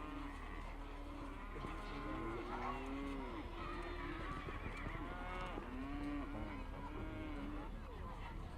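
Cattle moo repeatedly at a campdraft arena event. The lowing is long and drawn out, with several overlapping calls, carried over a constant crowd and arena rumble.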